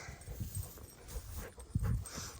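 Dogs outdoors in a garden give short whimpering sounds and low barks, mixed with shuffling and movement, fairly close and unsteady in level.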